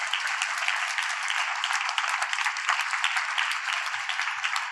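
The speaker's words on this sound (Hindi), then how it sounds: "प्रभु को जोरदार तालियों की भेंट दीजिए।" Sustained applause from a church congregation, steady dense clapping throughout at a fairly distant, even level with no one speaking.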